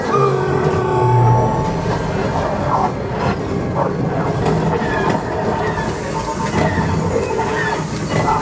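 A train rumbles past loudly in a simulator ride, with rolling clatter and occasional squealing wheels, continuous throughout with no talking.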